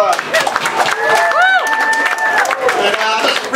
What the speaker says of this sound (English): please give Helena a round of applause